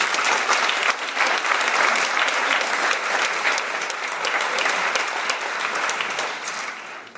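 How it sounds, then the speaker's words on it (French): A large audience at an entrepreneurs' conference in Gironde applauds Marc Thiercelin with dense, sustained clapping. It stays loud and even for about seven seconds before easing off at the very end. "Je vous demande de l'applaudir"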